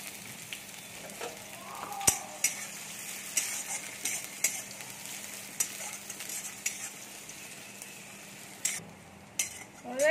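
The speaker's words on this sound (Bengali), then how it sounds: "এবার পেঁয়াজ দিয়ে দেবো। পেঁয়াজটা একটু ভাজতে দেবো।" Chopped onions fry in a pan with cumin, giving a soft continuous sizzle. Scattered scrapes and clinks of stirring come through, some sharp and close.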